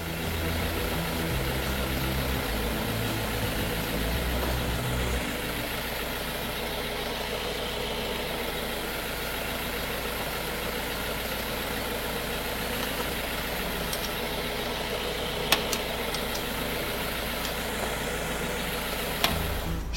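A car engine idling steadily during transmission oil filling, a continuous low rumble with a constant hum, close by and unchanging, with a few faint clicks near the end.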